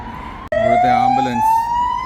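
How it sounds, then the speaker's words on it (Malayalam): An ambulance siren on a Budapest street, loud and close, a rising wail that starts abruptly after a brief break and holds steady. "ഇവിടുത്തെ ആംബുലൻസ്."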